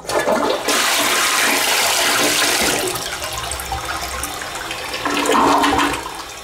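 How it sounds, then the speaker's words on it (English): An American Standard toilet in a Paris Las Vegas hotel room flushes loudly with a rushing gush of water, then the tank refills with a steady trickling hiss, heard up close with no voices. "This right here is your commode, which is an American standard. So we're going to flush it on camera."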